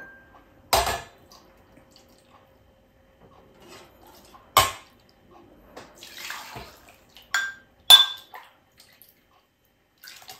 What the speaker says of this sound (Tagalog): Lagay tayo ng sabaw.